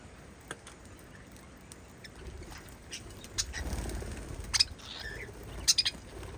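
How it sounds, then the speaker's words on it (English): Budgies and cockatiels in a small parrot aviary give faint scattered chirps and pattering rustles, with a few sharper calls near the end. "Now we're in the small parrot aviary. All little budgies and cockatiels."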